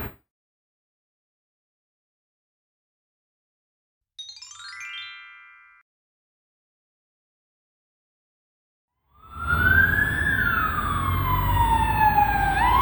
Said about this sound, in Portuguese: Pausa para ambulância.